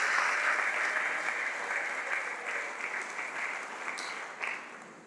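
Church congregation applauding during a sermon, a sustained wash of many hands clapping at moderate distance that gradually fades out over several seconds.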